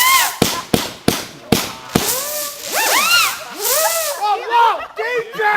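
Fireworks on a May long weekend: a quick string of sharp firecracker bangs, then whistling, screaming rockets rising and warbling overhead, loud and close, with people shouting nearby.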